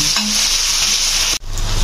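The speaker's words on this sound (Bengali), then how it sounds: "এবার পেঁয়াজ কুচিটাকে একটু ভাজা ভাজা করে নেব" Chopped onions sizzle and hiss loudly in a hot pan as they are stirred, a close, continuous frying sound for making fish-head muri ghonto, broken by a brief clatter near the end.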